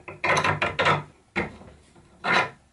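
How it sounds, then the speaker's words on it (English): A hand brace turns a bit through a wooden table slab in a small workshop. Short rasping bursts of wood being cut come in an uneven rhythm, close and fairly quiet, with pauses between turns. "I find it much easier to drill straight with a bit and brace than an electric drill"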